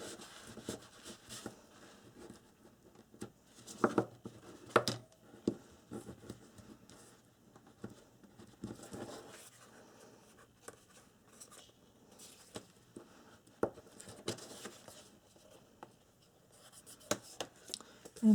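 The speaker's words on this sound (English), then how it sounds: "I'm going to have to burnish." A tool burnishing glued paper onto a calendar box, heard as quiet, close rubbing and scraping strokes that come in irregular bursts, with soft taps between them.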